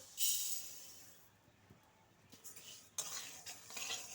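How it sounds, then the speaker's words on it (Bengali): Moong dal dry-roasting in a hot kadai, faint scraping stirs and light clinks of a spatula against the pan in short irregular bursts, with soft rustle between them and no talking. "কড়াই গরম হয়ে গেছে, প্রথমে আমি মুগ ডাল ভেজে নেব। দিয়ে দিচ্ছি মুগ ডাল।"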